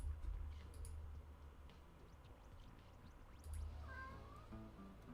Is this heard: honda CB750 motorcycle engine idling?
no